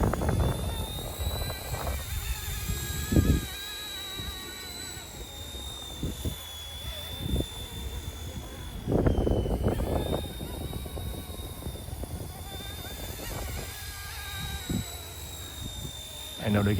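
An RC Era C189 MD500 model helicopter flies in strong gusty side wind, its thin high rotor whine holding steady while rough bursts of wind buffet the microphone.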